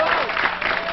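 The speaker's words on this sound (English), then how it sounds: "How about a big round of applause for everybody?" Studio audience applause at the close of a Pennsylvania quiz show, brisk dense clapping running throughout, loud and near, with music or a voice faintly underneath.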